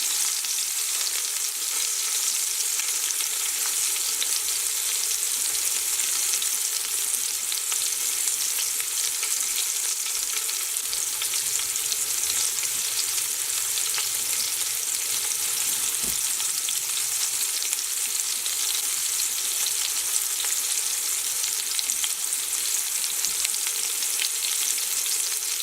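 Beef pieces brown in a pan for stew, giving a dense, steady hiss of sizzling fat that carries on unbroken and fairly loud, with a single faint knock near the middle.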